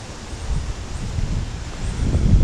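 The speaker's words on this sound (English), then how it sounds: "Look at those trees up there swaying in the wind." High wind gusting through tall swaying trees in the Alabama woods, a steady low rushing roar with rustling leaves that builds louder toward the end, no voices.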